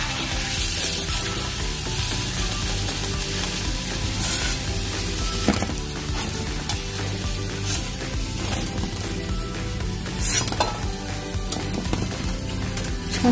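Kofta balls made from raw green banana shallow-frying in oil over a very low flame give a steady, close sizzle throughout, with a few soft clinks and stirring noises and no talking.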